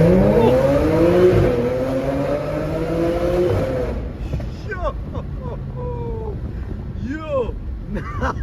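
Supercharged Audi RS4 accelerating hard in first gear from about 2000 RPM, a loud rising engine whine that climbs steadily for about four seconds and then drops away, followed by excited voices and road and wind noise.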